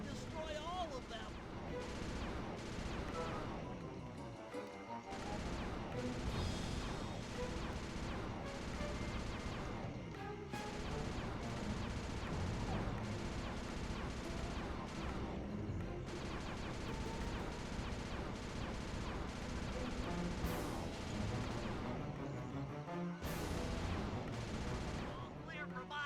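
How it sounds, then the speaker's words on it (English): Hunter-seeker bombs rain down and explode in the video game Sly 2, a long, dense barrage of booms and crashes that continues nearly without pause and is loud throughout. "Rajan is raining down a bunch of hunter-seeker bombs on Murray."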